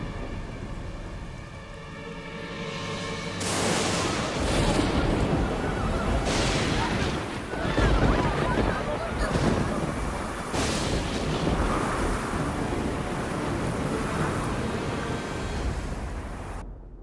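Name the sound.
thunderstorm with wind and heavy rain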